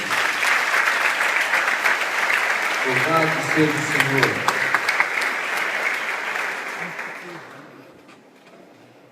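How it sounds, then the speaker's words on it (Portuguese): Congregation applauding in a church, a dense, steady wash of clapping that holds for several seconds while someone speaks over it partway, then fades away toward the end. "Uma salva de palmas a Cristo"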